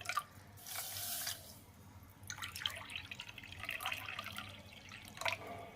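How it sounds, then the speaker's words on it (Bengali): Water measured in a cup is poured into a pan with sugar for syrup in a home kitchen, giving a close splashing pour in two bursts with dripping in between. "দেখো এই কাপে মেপেই জল দেবো।"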